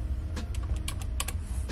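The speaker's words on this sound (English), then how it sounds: "I'm typing" Quick, light keystrokes on a computer keyboard come in an uneven burst of clicks over a low steady hum, close and fairly clear, with no voices.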